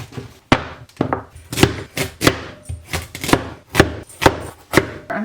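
Potatoes are chopped with a knife on a board, about a dozen crisp, solid chops landing roughly twice per second, close and loud, with no talking.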